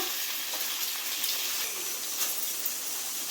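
Onions and tomatoes sautéing in a pan for sundakkai chutney, giving a soft, even crackling hiss that stays faint and continuous throughout, with no voices present.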